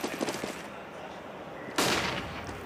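Gunfire from the Counter-Strike: Global Offensive match at DreamHack Winter 2014, shots and a sudden loud burst near the end, heard under faint crowd noise.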